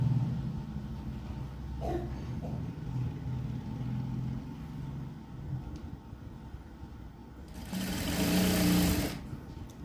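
A sewing machine stitches a blouse shoulder seam, a low steady mechanical hum with short bursts and a louder faster run near the end.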